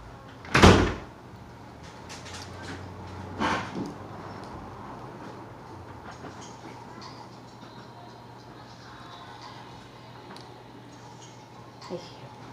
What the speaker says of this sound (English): You can just close the door.